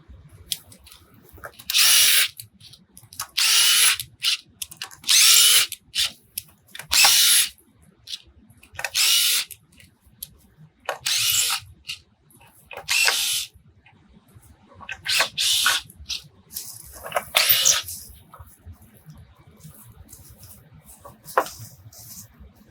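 A power drill whirs in repeated short bursts while backing screws out of a spacer on a barrel sauna, with quiet pauses between each burst, close and fairly loud.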